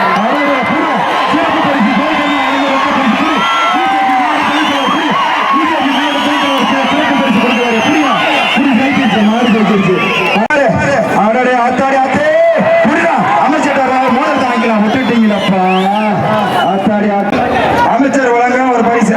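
A large outdoor crowd at the Sooriyur jallikattu bull event roars steadily throughout, with whistles, clapping and whoops rising above the din and a loud voice talking over it.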